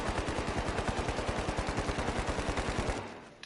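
Rapid automatic gunfire in the video game The Finals, a loud, even burst of shots firing at a fast steady rhythm for about three seconds before cutting off and fading.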